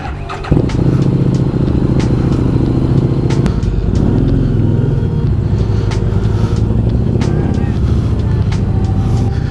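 A motorcycle rides along the road on a long highway trip, its engine running loud and steady close by, with faint wind noise and brief speech mixed in.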